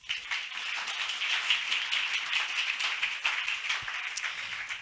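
A church congregation applauding in acclamation of Jesus during a worship service, a steady wash of many hands clapping at moderate distance for the whole stretch, with no voices standing out.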